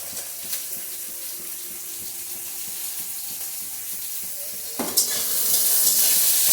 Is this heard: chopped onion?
yes